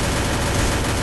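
Dense, continuous bursts of gunfire from a shooter video game, loud and close, with rapid overlapping shots filling the whole moment and no voices.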